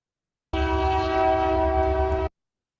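An eastbound Rocky Mountaineer passenger train, pulled by locomotives rebuilt from 8500 series units, sounds its horn near Chase, British Columbia: one steady, loud, multi-tone blast of almost two seconds, close by, with no talk.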